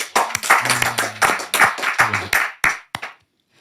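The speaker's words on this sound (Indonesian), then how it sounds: "tepuk tangan buat Ustadz Yahya Waloni" Crisp, close clapping from a small audience greeting Ustadz Yahya Waloni at a religious talk, a quick burst of separate hand claps that stops abruptly after about three seconds.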